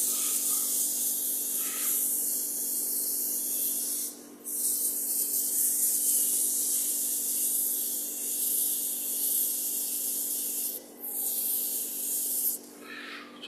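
Sandpaper rubs against a wooden bowl spinning on a wood lathe, a continuous close, bright hiss with brief drops and pauses as the paper is lifted away.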